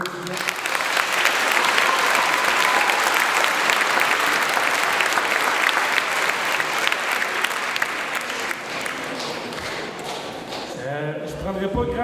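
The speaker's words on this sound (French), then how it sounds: "une belle main d'applaudissement pour les étudiants" A graduation gown ceremony crowd gives the finishing students a long round of applause, loud continuous clapping that holds steady then thins out near the end as a voice begins speaking.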